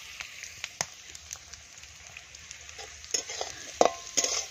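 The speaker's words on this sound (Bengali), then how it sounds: "ফ্রাইড রাইসের জন্য আমি এটা একটু ভেজে নিলাম।" Ingredients for fried rice sizzle steadily in a pan, with scattered sharp crackles and spatula scrapes rising near the end, fairly quiet overall.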